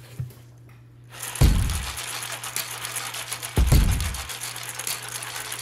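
Dine supplement shaken from a container onto a blue nose bully pitbull's dog food, heard as two distinct thumping shakes a couple of seconds apart, close and fairly loud over a steady low hum.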